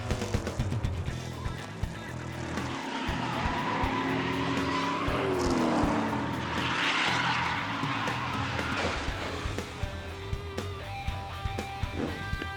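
Race cars roar past with squealing tires and skidding, engines rising and falling amid a chaotic crash scene with a heavy impact, loud and close.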